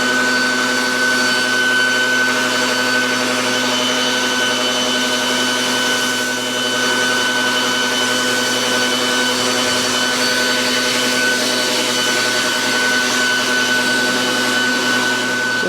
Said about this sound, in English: you do need to see the effectiveness of this blower